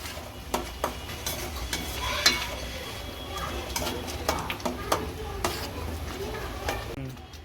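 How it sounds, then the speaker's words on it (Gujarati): Tomato gravy is stirred in a cooking pan for a cashew gathiya curry, with a soft background sizzle and scattered light clinks and scrapes of the spoon, fairly close. "હવે આપણે તેમાં ટામેટાની ગ્રેવી એડ કરી દઈશું અને તેને પણ સારી રીતે મિક્સ કરી દઈશું અને થોડી વાર ચડવા દઈશું"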